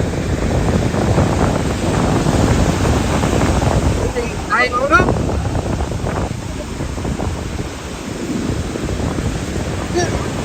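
Sea waves at Somnath beach roar in a continuous loud wash of surf, with strong wind buffeting the microphone throughout and a brief faint higher sound midway.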